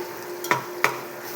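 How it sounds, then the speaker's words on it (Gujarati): Two quick scraping stirs of a spoon through thick soybean curry gravy in a pan, close and distinct over a faint background hum. "આ રીતની ગ્રેવી થઈ જાય ત્યાં સુધી એને આપણે મિક્સ કરતા જ રહીશું."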